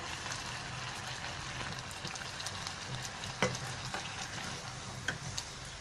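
A wooden spoon stirs soft, cooked-down chana dal in a pot, giving a steady, close, wet scraping and bubbling texture with a few sharper knocks, and no talking.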